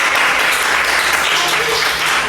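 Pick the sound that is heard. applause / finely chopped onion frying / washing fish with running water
applause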